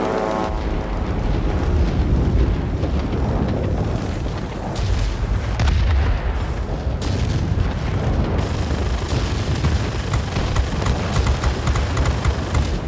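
Russian 45mm high-explosive shells bursting in the World of Warplanes air-combat game: dense, continuous rumbling booms and crackling detonations layered over a constant loud engine roar, with no pause throughout.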